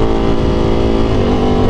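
A 2023 Ducati Panigale V4R motorcycle engine drones loud and steady at high revs, its high-pitched exhaust producing a sustained tonal whine throughout, with no talk.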